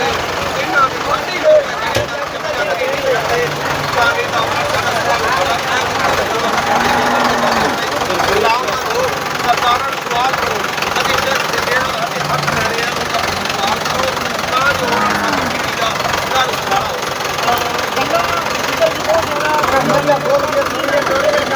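A tractor engine chugs steadily at a low idle throughout, loud and close, with voices talking over the continuous rumble, during flood relief work.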